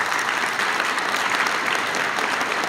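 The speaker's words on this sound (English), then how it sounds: "Let's give these guys a round of applause." A crowd at a school fall activities awards ceremony gives a round of applause for the cross-country team, a continuous, dense patter of clapping at a constant level.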